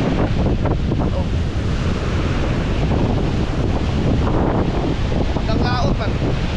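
Loud, continuous rush of large ocean waves and monsoon wind buffeting the microphone, a dense roar with no pauses.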